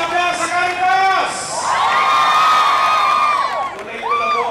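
A large crowd at an outdoor prayer rally roars, shouting and cheering in loud, sustained swells with high whoops that rise, fade and surge again.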